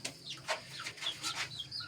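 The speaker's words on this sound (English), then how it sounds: "they can survive because local chicken are very immune and they are eating here" Local chickens cluck on a farm in Nepal, a run of soft, close, repeated clucks and chirpy calls overlapping at a steady, busy pace, with no talk.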